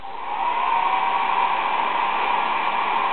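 A hand-cranked toy car wash machine running its drying stage gives a steady, even whooshing blow, close and fairly loud, holding unchanged with no talking.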